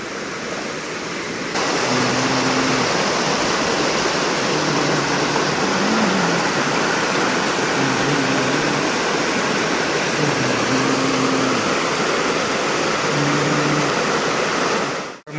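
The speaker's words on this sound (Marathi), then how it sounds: "हे बघते ना समोर हे पाटाचं पाणी आमचं प्यायचं जे वाडीमध्ये जातं" Water rushes steadily along an irrigation channel used for drinking water, a loud, continuous broadband roar that holds from start to end with a faint tonal hum underneath.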